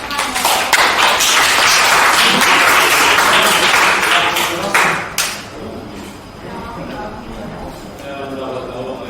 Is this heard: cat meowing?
no